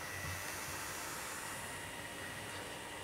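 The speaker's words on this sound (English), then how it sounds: "I don't mind a bit of loco noise." A Hornby West Country Class model locomotive's motor running, a steady whirring hiss with a faint high whine throughout, close and even, with no voices.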